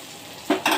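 Spices stirred in a cooking pan for a village-style North Karnataka dish, two short scraping strokes over a soft steady sizzle.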